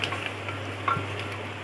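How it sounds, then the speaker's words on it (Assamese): Spices with turmeric powder and salt fry for egg biryani in a pressure cooker, making a steady low sizzle with one brief clink of a stirring spoon partway through. "এচামুচ হালধি গুড়ি দি দিম আৰু ভালকৈ ভাজি দিম।"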